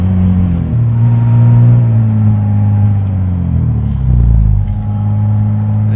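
A 1960 Aston Martin DB4 Series 2 Coupe engine warms up on choke, a loud, close, steady rumble with a deep throb that swells briefly as the revs rise.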